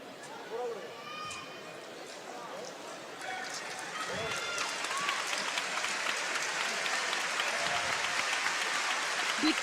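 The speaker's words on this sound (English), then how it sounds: "Big applause here" Applause at a men's team kendo final in Milan, Japan against Korea, rises from a large arena crowd as a dense, sustained wash that grows louder partway through, with a commentator talking over it.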